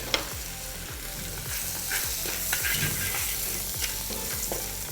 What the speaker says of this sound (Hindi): थोड़ा लौंग, थोड़ी सी काली मिर्च, गिव अ नाइस स्टर।